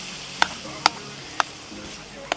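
Mincemeat fries in a pan under a steady loud sizzle, while a spoon scrapes and knocks against the pan four times at uneven intervals to break up the meat.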